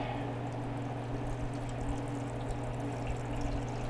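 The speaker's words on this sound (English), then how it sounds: "we're going to get as much warm water in there as we can to optimize our incubation options" Warm water pours steadily into an egg incubator tray, a continuous close splashing stream over a low hum, with no talking.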